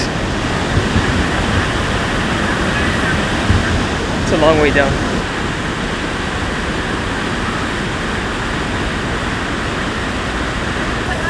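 Steady, dense roar of a powerful waterfall in Baños, Ecuador fills the whole clip, loud and continuous, with a person speaking briefly over it.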